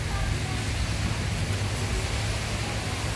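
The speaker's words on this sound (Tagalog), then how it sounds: "Tapos, umuulan pa." Steady rain hiss fills the whole stretch, with a low rumbling undertone and no clear voices, constant in level from start to finish.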